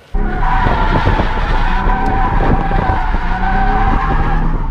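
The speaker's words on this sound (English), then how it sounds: "this was kind of my first time really seeing if it could drift" A Nissan 350Z drifting on 225 tires at about 40 PSI, with loud sustained tire squeal and screeching over a steady engine roar throughout, no talking.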